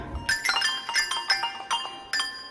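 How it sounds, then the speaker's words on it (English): A handbell is played with the thumb-damp technique at a church bell concert: about seven quick, bright strikes, each cut short into a dry, clipped ring, in an uneven rhythm close by. "We can thumb damp."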